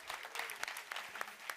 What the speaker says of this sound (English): So let's give a round of applause to each of you.